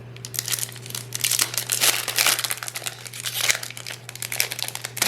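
A Magic: The Gathering booster pack wrapper is torn open and crumpled up close, producing bursts of crisp plastic crinkling that come and go over a few seconds, with a low steady hum underneath.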